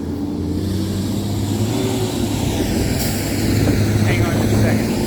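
Buses being driven down to be fueled up on a rainy day give a steady, fairly loud low engine rumble with a slight rise in revs toward the end.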